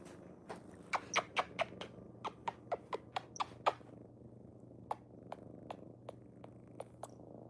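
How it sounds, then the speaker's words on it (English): A close, low rumbling purr from a long-haired cat runs throughout, broken by sharp clicking taps that come quickly at first and then thin out. "You hear her purr?"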